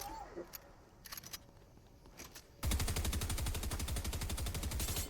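Rapid automatic gunfire from a video game gun, a loud sustained burst of evenly spaced shots starting midway and running to the end after a quieter stretch with faint clicks and brief sounds.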